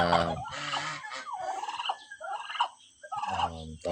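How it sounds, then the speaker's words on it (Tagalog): Two female turkeys fighting gobble and squawk loudly at close range in agitated, overlapping bursts, with harsh rising calls between. "So yan yung ating dalawang pabo na babae. Kaya na pa silang umaga nag-aaway."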